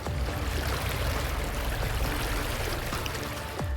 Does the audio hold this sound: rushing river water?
yes